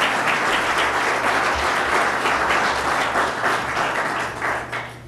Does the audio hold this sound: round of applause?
yes